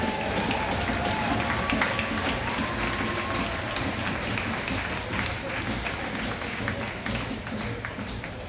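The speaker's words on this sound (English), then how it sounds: "Let's have a nice round of applause, folks." A crowd in an ice hockey arena at a women's college game claps in sustained, steady applause that fills the space at a constant loud level, with voices mixed in.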